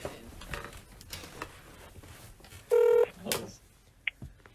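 A single steady telephone ring tone sounds for about a third of a second amid quiet room noise, clicks and a few brief voices, followed by a short electronic blip.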